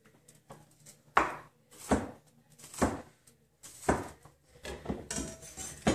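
Knife slicing through vegetables on a cutting board for Carolina Reaper pickles, a run of distinct close cuts in an irregular rhythm with quiet gaps between strokes.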